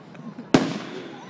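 A single loud fireworks burst at a Bellingham display cracks sharply and then trails off in a long, rumbling decay, with faint background noise before the blast.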